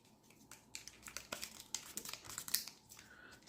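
Kapton adhesive tape crinkles and tears while being wrapped around an opened Pro-Craft 8 Ah 20 V power-tool battery pack, producing a string of close, dry crackles and short rips with no talking.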